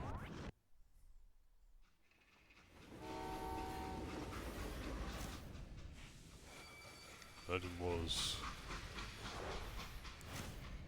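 A train running in the Western video game Call of Juarez: Gunslinger: a steady rumbling roll with hissing steam and a brief horn blast near the end, heard under someone speaking.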